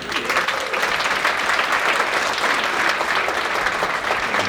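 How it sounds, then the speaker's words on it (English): Audience applause after a STEM performance and panel discussion, dense even clapping from a sizable crowd sustained for several seconds. "One more round of applause, please"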